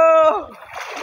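Water splashes and churns as someone bathes in a river, with a voice at the start giving way to broadband sloshing and spattering close by.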